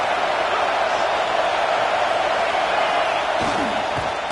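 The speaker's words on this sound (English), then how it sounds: "This crowd rising up, sensing that its defense needs some help." A stadium crowd roars in an American football video game, a dense, loud, continuous wall of noise with a few faint thuds near the end.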